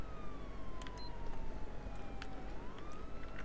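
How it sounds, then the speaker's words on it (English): A police car siren in a FiveM video game police pursuit wails steadily with a slow falling then rising pitch, over a dense rumbling background, with brief sharp clicks now and then. "Turn your sirens off."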